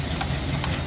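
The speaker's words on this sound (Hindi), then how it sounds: "ये मिथिलांचल एक्सप्रेस आ रही है दरभंगा से चलकर" Mithilanchal Express, hauled by a diesel locomotive, arrives at Sitamarhi Junction, giving a loud, steady, close-up rumble of engine and wheels with no voices.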